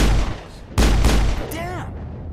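A sharp, loud burst of gunfire from Mass Effect cuts in mid-clip and rings out briefly, then a voice is heard as the blast fades.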